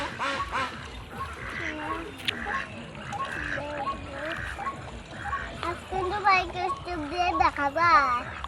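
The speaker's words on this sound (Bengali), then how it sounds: "এখানে অনেকগুলো ডাক আছে" Several ducks quack repeatedly in a nasal, uneven chorus near and at middle distance, with a voice and adult talk mixed in and occasional splashing of water.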